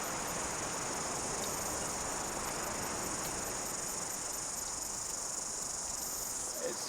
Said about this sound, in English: the cicadas have started kicking off